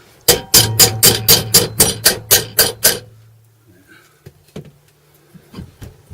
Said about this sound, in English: Hit it with a hammer a little bit.